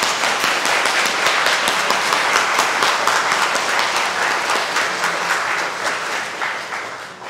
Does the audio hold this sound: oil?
no